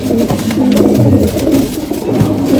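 Male Punjabi Malwai pigeons coo close by, a continuous low throaty burbling of overlapping calls.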